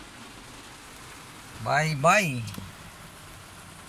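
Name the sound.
rain falling during a typhoon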